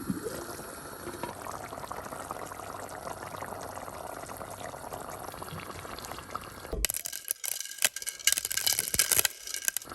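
Water pours steadily into a cooking pot of chicken vindaloo with tamarind pulp, a gurgling, bubbling splash for several seconds, then gives way to louder clattering and sloshing near the end.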